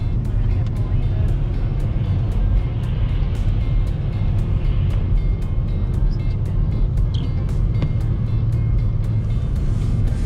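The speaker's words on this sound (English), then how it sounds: "we're gonna get passed by a semi-truck" A semi-truck passes close by on a snowy, icy winter road in northwest Wisconsin, a loud steady rush of engine and tire roar filling the whole stretch without letting up.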